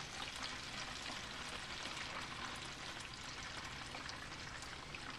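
Filtered water poured steadily for cold brew coffee makes a continuous, even splashing rush, faint and unbroken throughout.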